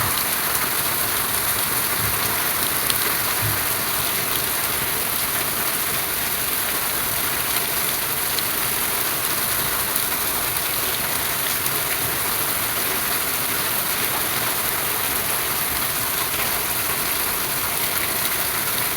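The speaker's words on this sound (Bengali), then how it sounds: "বৃষ্টিটা অনেক জোরে নামছিল" Heavy rain pours down steadily, a dense, even roar of falling water with scattered drops hitting surfaces, constant throughout and free of talk.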